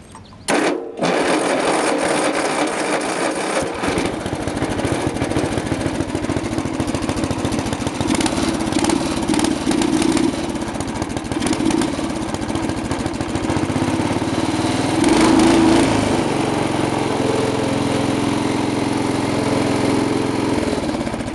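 A small Sears Craftsman engine starts with a brief sputter and then runs continuously at a loud, steady, buzzing drone, close by, with slight variations in pitch throughout.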